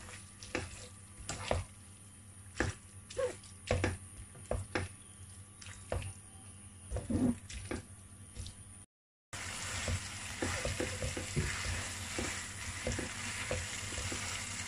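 Cooked spaghetti is stirred through a pan with a soft sizzle under repeated clacks and scrapes of the utensil, then a brief break, followed by a denser, louder hissing sizzle.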